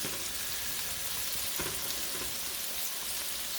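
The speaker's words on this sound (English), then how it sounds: "Blackstones, it spatters, so be prepared to deal with spatter." Burgers sizzling and spattering on a Blackstone E-Series electric griddle, a steady dense hiss of frying grease with small pops, even and fairly quiet, no talk.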